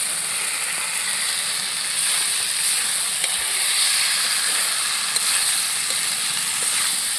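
Potatoes go into a pan of frying chicken for a chicken and cauliflower curry, giving a bright, steady sizzle with faint scraping stirs, no talking.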